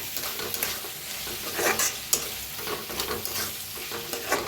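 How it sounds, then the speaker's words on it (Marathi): Masala of turmeric, sabzi masala and red chilli powder frying in oil while being stirred, a dense, close crackling sizzle with spatula scrapes against the pan throughout. "आता छान भाजून घेऊया"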